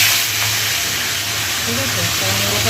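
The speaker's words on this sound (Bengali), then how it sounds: "মুড়োটা দিয়ে নিলাম তাহলে মুড়োটা ভেজে নিই" A hilsa fish head fries in darkened oil, giving a steady close broadband sizzle and hiss that runs throughout, with a voice faintly speaking near the end.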